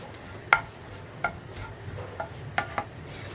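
Grated coconut being stirred in a hot pan for puttu, with a handful of light scrapes and taps of the spoon against the pan over a soft, steady sizzle.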